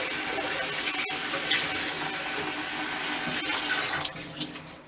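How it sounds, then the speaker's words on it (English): A bathroom or sink tap runs cold water to wet a clean towel, a loud, steady splashing stream that continues throughout and eases slightly near the end. "we're going to take a towel and we're going to wet it with cold water"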